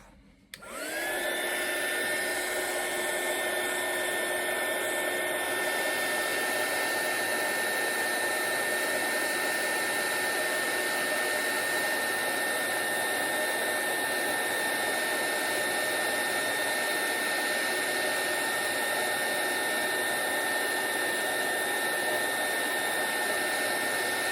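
A handheld heat tool blows steadily over a handmade card for about 24 seconds, starting abruptly and holding a loud, constant whirring roar with a steady whine and no talk.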